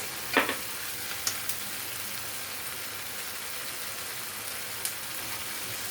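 Menemen with red pepper sizzles quietly in a pan, a soft continuous frying hiss with a few light clicks of a utensil stirring through it.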